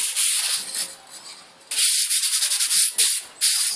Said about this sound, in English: 220 grit sandpaper on it.